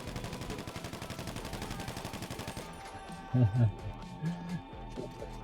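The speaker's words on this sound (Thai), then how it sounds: "ไม่เอาเขายิงติดกำแพงครับ ติดทุกดอกครับ" Rapid automatic gunfire in the GTA V video game, with bullets striking a wall, rattles in a steady burst for a few seconds, followed by a handful of heavier, scattered thuds.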